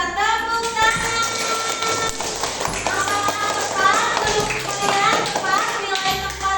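Children in a classroom clapping together after a math lesson. Short bursts of claps and taps mix with children's voices and a teacher speaking, with everything close and fairly loud.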